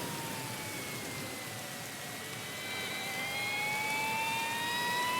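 Steady, continuous rain hiss in the MotoGP 19 racing game, a dense even wash of sound. Faint rising engine whines run beneath it without breaking the constant downpour.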